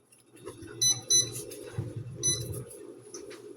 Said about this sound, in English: I'm going to start my kitchen timer on my microwave